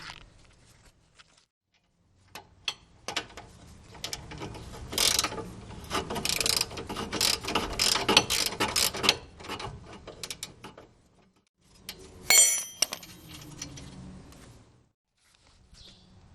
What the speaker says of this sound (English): And a ratchet with a size 14 on that side.